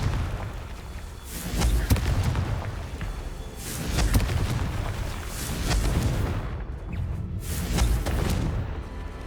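Confringo spell explosions in the Hogwarts Legacy video game go off as several deep booming blasts at intervals, one roughly every two seconds, with a rumbling tail after each.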